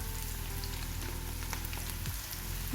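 Cauliflower balls for gobi manchurian deep-frying in hot oil, giving a steady, dense sizzle and crackle close by, constant throughout with no voices.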